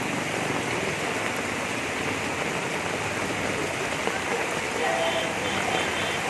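Heavy Kalbaishakhi storm rain pours down in a steady, dense roar on a waterlogged street, loud and unbroken throughout, with a voice faintly present underneath.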